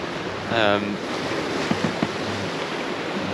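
Steady wind and rushing waves around a small sailboat making about 7 knots in the English Channel, a constant broad roar with gusty microphone buffeting and a few faint knocks from the boat.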